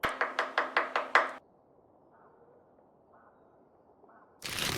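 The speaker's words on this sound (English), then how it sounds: "I'll cut the carrots." Carrots are chopped with a knife on a board: six quick, evenly spaced sharp chops close by, then a quiet stretch with faint background murmur before a loud burst of noise.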